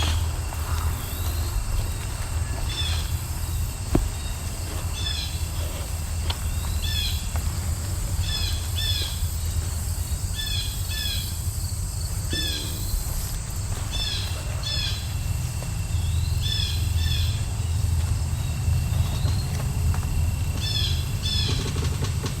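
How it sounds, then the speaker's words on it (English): Repeated short blue jay calls ring out at a steady pace over a constant hum of insects and low background noise, moderately close. "Another blue jay. This one's a bit closer up."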